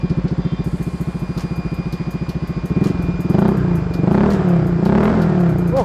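Honda ADV 150 scooter with a Burnout aftermarket exhaust idles with a loud, rapid, throbbing pulse, then gets blipped into several rising revs with a deep, bassy tone, close and alone.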